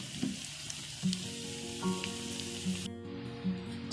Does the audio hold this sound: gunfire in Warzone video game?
no